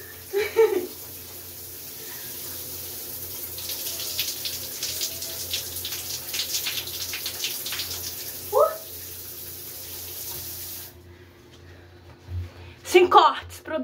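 Shower water runs as a steady, close, hissing spray for most of the stretch, then stops abruptly, with a few brief voice sounds and knocks around it.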